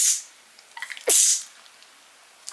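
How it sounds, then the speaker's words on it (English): A single sharp sneeze bursts out close by after a short breathy intake, then quiet room tone follows. "I need to sneeze."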